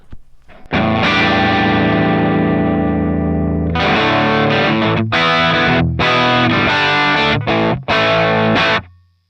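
Distorted electric guitar through an M-Vave MK300 multi-effects unit's Vox-style amp model with a Greenback speaker plays a sustained chord, then a series of chopped, rhythmic chord stabs with a crunchy, amp-driven tone.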